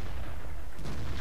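A tank cannon fires at an enemy turret in a tank video game, giving a loud, dense blast that fills the whole short moment with heavy rumble.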